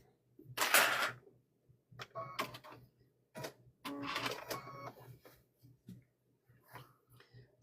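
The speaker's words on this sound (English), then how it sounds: "we're going to go ahead and sew all the way around" A sewing machine stitches around a quilted Halloween gnome wizard tote bag in several short bursts of rapid whirring, broken by pauses and small clicks, close and fairly quiet.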